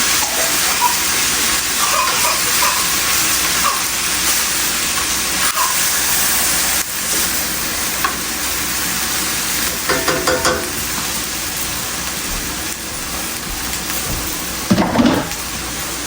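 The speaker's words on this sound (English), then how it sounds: "You just need to stir." Salt mackerel rundung being stirred while it cooks, a constant loud sizzle and hiss from the pot with occasional spoon scrapes and a brief clatter near the end, no voices.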